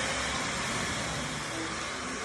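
A Kintaro Leifin hair dryer blowing at its highest speed, a loud, steady, close broadband whoosh of air with no break.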